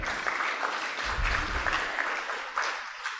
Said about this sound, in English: To our speakers, can we clap for all of them just once more?